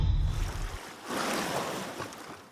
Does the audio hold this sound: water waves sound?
yes